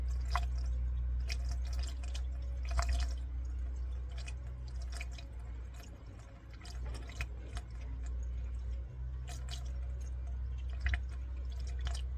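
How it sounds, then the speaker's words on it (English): Coolant is poured into the cooling system of a 2004 Dodge Ram 1500 3.7, giving faint intermittent drips and trickles with scattered clicks over a steady low hum. "I'm going to pour it in until it just comes out up on the coolant"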